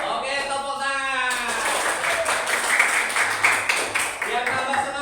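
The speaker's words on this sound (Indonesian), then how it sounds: "Oke, tepuk tangan." A group gathered for a lively rally claps together in a brisk, noisy burst that follows a sung or chanted voice and continues under further speaking.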